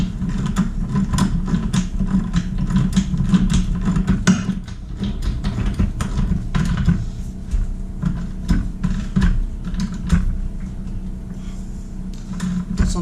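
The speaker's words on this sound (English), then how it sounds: "We'll take our 1 1/16 socket" Ratchet clicks from a 1 1/16 socket tightening the front axle nut on a 2014 Triumph Tiger XR800 motorcycle, a steady run of close mechanical ticking over low workshop hum throughout.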